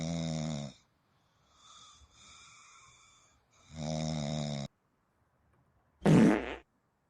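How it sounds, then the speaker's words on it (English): Long, loud, buzzy fart noises as a joke sound effect: a blast, a quieter sputtering stretch, a second sustained blast, silence, then a short burst. There is no talking. "Don't say I farted."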